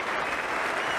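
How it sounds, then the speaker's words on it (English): Cricket crowd at an Australia versus India Test match applauding a batsman reaching fifty, steady broad clapping from a large stadium audience, loud and continuous with no commentary over it. "So very well played, Ian Healy, acknowledging the applause of the crowd"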